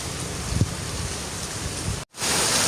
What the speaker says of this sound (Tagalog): Naku, lalong lumakas ang ulan.